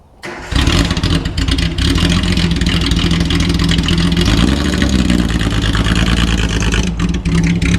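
A Datsun 280Z off the road for 18 years, a barn find, fires up and settles into a loud, steady, rough idle close by after a brief starting burst, running continuously with no talk.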